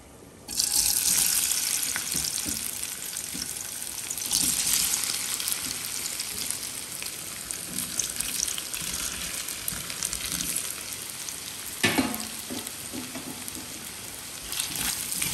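Cut potatoes drop into hot olive oil in a pan and set off a sudden loud hissing sizzle that carries on steadily, with a sharp burst of spattering near the end. There is no talking.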